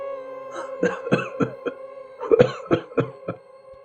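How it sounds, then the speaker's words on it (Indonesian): A person coughs repeatedly in short, hacking bursts, with a brief pause midway before another cluster of coughs, fairly close and clear. "tiba-tiba terdengar suara orang batuk"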